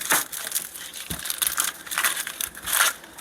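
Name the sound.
knife cutting up onion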